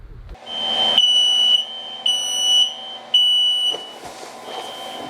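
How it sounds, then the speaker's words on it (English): A smoke alarm sounds in loud, shrill electronic beeps, about one per second, ringing clearly with no one talking. "So all the bedrooms should have smoke detectors because we want you to hear the beep"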